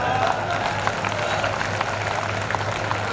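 An audience at a Hindi comic poetry show claps steadily throughout in a dense, even wash of applause, at moderate volume and without pause.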